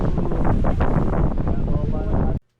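Strong, cold wind buffets the microphone on the Kapatagan trail of Mt. Apo, a steady loud roar with gusty swells that cuts off abruptly at the end.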